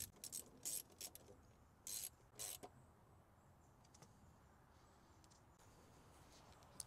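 A ratchet tightens a 10 millimeter bolt during a brake master cylinder replacement on a Honda Ridgeline truck, giving two short bursts of quick mechanical clicking close by before the work falls quiet.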